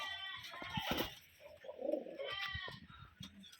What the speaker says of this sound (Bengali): এই দুইটা এক জোড়া বিগ সাইজের কবুতর, ডিজাইন মাশাল্লাহ